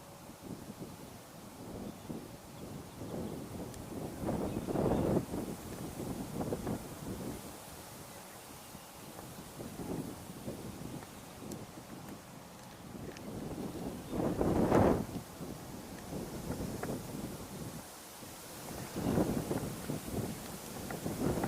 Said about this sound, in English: That wind has picked up a bit.